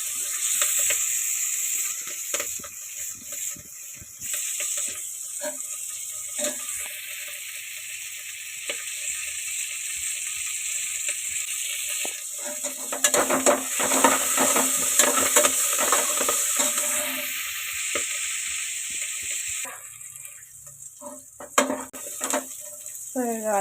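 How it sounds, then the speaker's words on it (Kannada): Onion and fenugreek leaves fry in a pan with a steady close sizzle, broken by bursts of stirring and utensil scraping against the pan. "ಮೆಂತ್ಯ ಸೊಪ್ಪು ಚೆನ್ನಾಗಿ ಫ್ರೈ ಮಾಡಿಕೊಂಡ್ರೆ ಥರ ಕಹಿ ಬರೋದಿಲ್ಲ, ಹಾಗಾಗಿ ಎರಡು ಕೂಡ ಬೇಗ ಚೆನ್ನಾಗಿ ಫ್ರೈ ಮಾಡ್ಕೊತೀನಿ"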